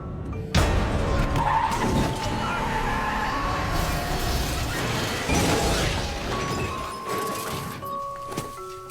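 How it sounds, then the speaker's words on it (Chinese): A car in a horror film accelerates hard and skids, its engine roar and tyre noise sustained at a loud level for several seconds before easing off. "可是刚走没一会儿，车的前方突然出现一个人，小帅心里知道这一定是幻觉，随后他一直加速直接冲了过去。"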